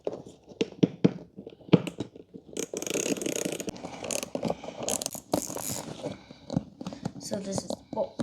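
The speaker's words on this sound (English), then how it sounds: "You got 3 screws to remove, and then unclip the tweeter." Screws being worked out of a BMW door speaker panel before unclipping the tweeter, with repeated small ratcheting and mechanical clicks, taps and handling noises close by, fairly busy throughout with a voice talking over parts.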